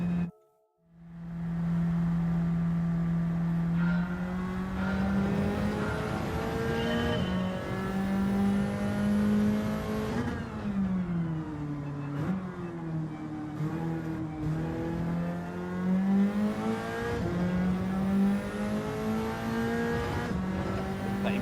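A race car engine revs hard and climbs through its gears in Gran Turismo 7, a loud, sustained, rising whine with repeated shifts and brief dips, alone and close throughout.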